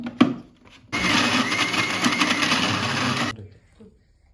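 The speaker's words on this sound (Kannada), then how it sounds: "ಮತ್ತೆ ಮಿಕ್ಸಿಗೆ ಹಾಕ್ಕೊಳ್ಳಿ" An electric mixer grinder whirs loudly as it blends ginger, garlic, coriander, onion and mint into a fine masala paste for chicken vada, one steady burst of about two and a half seconds with brief kitchen clatter before and after.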